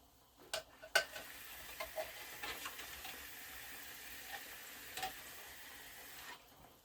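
Bouillon being stirred into a simmering one-pot hamburger meal, a soft steady sizzle with a few clicks and light scrapes of a utensil against the pot early on, fairly faint and without talk.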